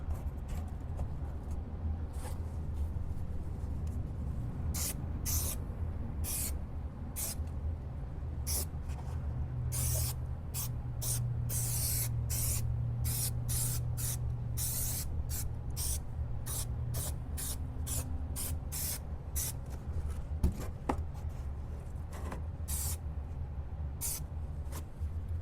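Glue sprays onto the headliner of a 1969 Camaro in a long run of sharp aerosol hisses, some brief bursts and some longer blasts, over a steady low background rumble, with no talking.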